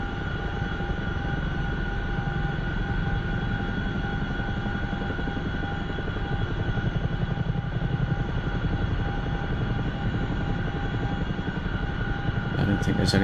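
Steady, loud helicopter rotor and engine drone from a DCS flight simulation, flying low over a main airfield runway lined with hangars in Afghanistan, constant throughout with a few sharp clicks near the end.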